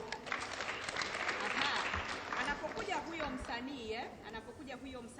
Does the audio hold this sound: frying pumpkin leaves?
no